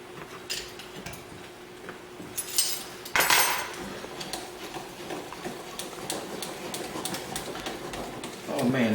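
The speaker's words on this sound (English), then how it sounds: "So you keep stirring until it's nice and creamy" A spoon stirs vanilla- and almond-flavoured white chocolate icing in a bowl, giving steady close scraping and clinking with a few sharper knocks against the side, under faint background noise.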